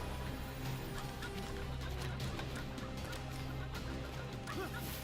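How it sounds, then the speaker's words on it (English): Hostile chickens in the video game Immortals Fenyx Rising cluck and squawk continuously against a steady game soundtrack, with no talk. "Oh, these chickens still want to kill me."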